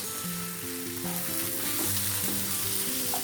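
Mushrooms frying with freshly crushed black pepper, a loud, dense, continuous sizzle with stirring underneath, close and steady, no talking.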